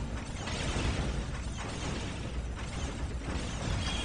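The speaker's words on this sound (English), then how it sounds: "I like the effect of the grenade launchers" Grenade launcher explosions in Warhammer 40,000: Dawn of War, a dense continuous wash of battlefield blasts and rumbling bursts at steady loudness throughout, with several thumps close together.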